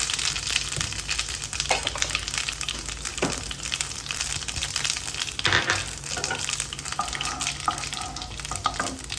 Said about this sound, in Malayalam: എണ്ണ നല്ല ചൂടായി ഇതിനകത്തോട്ട് ഒരു ടീസ്പൂൺ ചെറിയ ജീരകേ അതിട്ട് കൊടുത്തേക്കാം